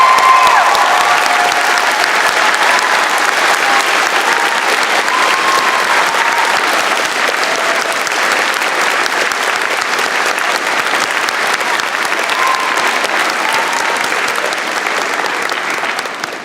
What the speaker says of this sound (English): Graduates, a round of applause for family and friends.